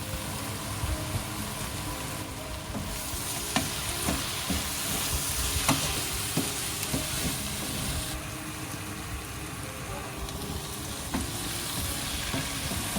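Potatoes stir-frying in a pan with garlic and perilla powder, a steady sizzle with frequent scraping and clattering stirs throughout, close and fairly loud.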